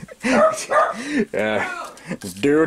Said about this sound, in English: That's just our dog barking.